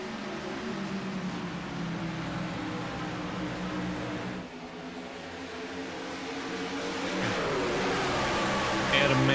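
Racing trucks in a truck series accelerating off the start at the green flag, a steady engine drone that swells and grows louder toward the end, with a voice talking over it.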